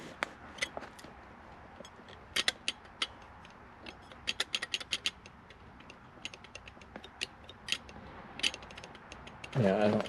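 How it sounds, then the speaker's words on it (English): Three screws being tightened on a restored steering wheel: irregular clicks and ratcheting ticks from a screwdriver, close and fairly quiet, ending in a short burst of louder handling noise. "let's tighten up these 3 screws"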